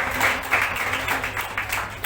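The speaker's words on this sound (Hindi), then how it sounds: "पवित्र आत्मा में जोरदार ताली हो जाए।" A church congregation applauds loudly, a dense, steady wash of clapping with a slight pulsing rhythm throughout.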